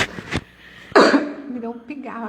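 A short throat clearing comes first, then a louder rasping clear of the throat. Speech-like sounds follow at close range.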